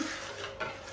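A spoon stirring a dough mixture of salt and egg in a bowl, a brief soft scraping and clinking close by, with no talk.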